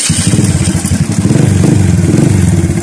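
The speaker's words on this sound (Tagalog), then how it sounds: "Yan po ang tunog ng kanyang makina. Pakinggan nyo." A Euro Sports 110 motorcycle engine idles loudly and close, its steady beat overlaid by a rapid metallic ticking clatter from a noisy timing chain.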